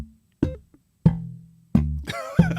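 Four sharp slap-bass thumb strikes, spaced about half a second to a second apart, each followed by a short muffled low ring as the strike mostly misses the note; the strikes play alone with no voice.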